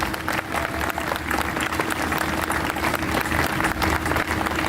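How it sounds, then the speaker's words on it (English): Large crowd at a 2018 Salute to America opening ceremony giving sustained, thick applause that fills the space evenly, with a low hum running underneath. "Please give a round of applause to these people."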